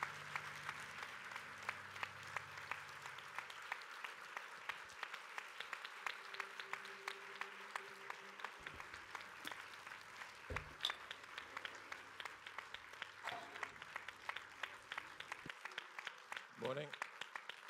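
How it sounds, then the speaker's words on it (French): Applause from the audience at a Paris press conference for the film Prometheus, a soft, steady patter of many hands heard fairly far off, with some low voices and brief talk underneath and a louder bump near the end. "Applaudissements, absolument."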